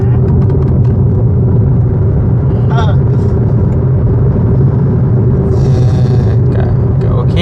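Steady loud low rumble of engine and road noise inside a moving car in southern Laos, continuous throughout, with people talking over it.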